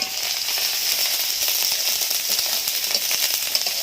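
Chillies tossed into hot oil in a pan, frying for a Bengali lote fish dish, give a steady, loud, crackling sizzle that runs evenly throughout with no voices.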